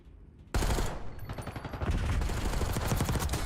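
SMG fire in a first-person shooter video game, a sudden loud onset followed by rapid continuous automatic bursts that build and sustain for about three seconds, close and dominant.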